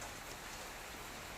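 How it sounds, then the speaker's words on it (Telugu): Steady rain falls on surfaces nearby, a dense, even hiss of drops with no pauses and no voices. "ఫ్రెండ్స్, ఇక్కడైతే మొత్తం వర్షం పడుతుంది."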